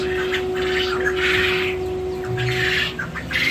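Several birds squawk and chirp in loud, overlapping bursts close by, with a steady tonal hum running underneath and no talking.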